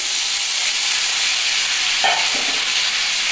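Grated ginger fries in hot oil with dried red chillies and cumin, giving a steady, loud broadband sizzle with a brief stir partway through.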